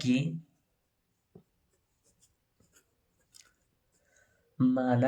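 A pen writes out a class 10 coordinate geometry solution on paper with faint, scattered scratches and taps between pauses. Someone speaks briefly at the start and again at the end.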